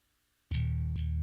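A single electric bass note rings out suddenly after a moment of quiet, thick and processed with chorus-like effects, then a second note follows.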